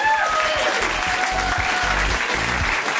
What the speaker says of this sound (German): Ein Applaus für die wunderbare Fibelipa Jaka.